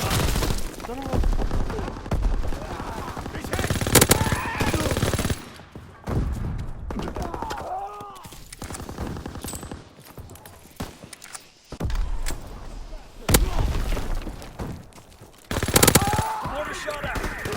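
Gunfire and mortar blasts from the World War II shooter Call of Duty WWII, with bursts of automatic fire, sharp booms and crackling explosions recurring throughout, dense and loud with game voices and callouts mixed in.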